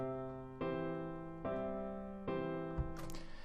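A soft piano plays an I, I6/4, I6 progression arpeggiated in the bass, three sustained chord attacks spaced evenly and fading between them, followed by a brief clunk and rustle at the end.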